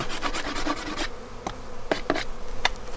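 Honey bees buzz around an open hive during a winter inspection in 25°F cold, with scattered near, brief buzzy passes and light rasping frame handling throughout.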